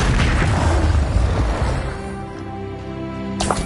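The Confringo explosive spell in the video game Hogwarts Legacy bursts with a loud, close boom, and a crashing rumble trails off into ringing tones for a few seconds.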